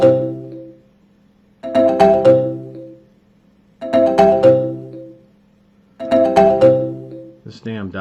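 A phone rings in three evenly spaced bursts, each a bright chiming tone followed by about a second of near silence, loud and close, with a short clipped tone at the very end.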